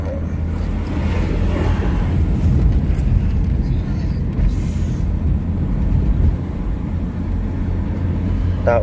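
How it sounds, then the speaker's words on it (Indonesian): A large bus passes on a road, heard from inside a BMW E36 320 touring car, with a broad engine rumble and road noise swelling and fading over several seconds, plus a brief hiss near the end. "bus besar."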